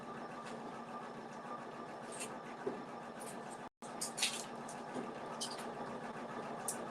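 An embroidery sewing machine stitches out a cat patch with a faint, steady mechanical whir and rapid needle chatter, punctuated by occasional light clicks and one brief pause.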